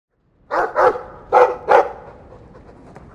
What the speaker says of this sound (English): Well, woof to you too. Ruff!